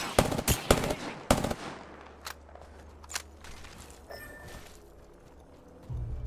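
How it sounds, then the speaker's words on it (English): Knuckle Cluster weapon firing in Apex Legends, a quick burst of sharp bangs at the start followed by a few scattered pops and faint game sounds that trail off. "Knuckle Cluster's firing."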